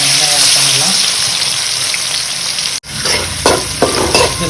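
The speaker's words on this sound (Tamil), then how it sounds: "ஸோ வெங்காயம் வறுத்தெடுக்கிறதுக்கான வெங்காயம் ஆட் பண்ணிடலாம்" Onions dropped into hot oil in a pan for a beef masala fry with a loud, steady sizzle and crackle throughout, interrupted by a brief dip and then spitting bursts as the onions are stirred.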